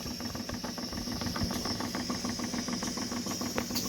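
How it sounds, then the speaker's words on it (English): A scale-model steam engine with a real boiler running, a quiet, rapid, even chugging pulse over a soft steady hiss, close by and without speech. "It's definitely boiling, like a real boiler, which it is. It's a real boiler, but it's scale modeled. And this thing is chugging away pretty good."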